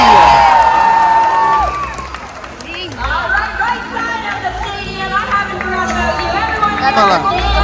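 Large stadium audience at a SeaWorld Orlando orca show cheering and calling out, a broad roar of crowd noise with scattered shouts, while a presenter talks over it on a loudspeaker.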